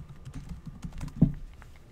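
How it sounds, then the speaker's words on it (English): Rapid clicking of computer keyboard keys, steady and close, with one slightly louder keystroke partway through and no voices. "I better start typing stuff in"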